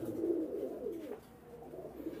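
Pet pigeons coo softly nearby in a low, throaty murmur that swells and fades, continuing in the background with no voices.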